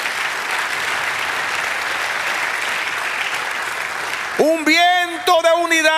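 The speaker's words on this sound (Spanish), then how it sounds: "Dale aplauso, Señor." A church congregation applauds in a steady, dense roar of clapping for several seconds, then a voice breaks in loudly over the fading applause near the end.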